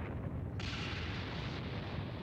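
A planet exploding in Dragon Ball Xenoverse 2 makes a dense, continuous roaring rumble with a sudden brighter surge partway through, sustained and loud without clear separate blasts, and no speech.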